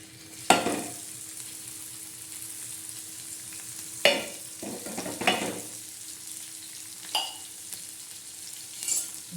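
Oil sizzles and fries on a tawa griddle, with a steady hiss and several sharp scraping stirs of a spoon or spatula at irregular intervals, close and alone without talk.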